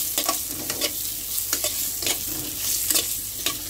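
A spoon stirs turmeric, salt and chili powder into hot oil for an egg curry, giving repeated scraping strokes over a soft steady sizzle, close and fairly loud, with no voices.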